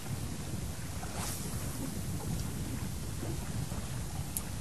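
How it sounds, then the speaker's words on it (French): Strong wind roars steadily and close, a dense, constant rush with low buffeting throughout and no voices. "le vent est quand même assez puissant"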